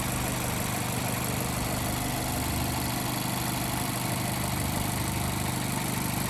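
Steady idle of a 2018 Mazda MX-5 RF's 2-litre Skyactiv-G petrol engine, a constant even hum and low throb with no revving, heard close and alone.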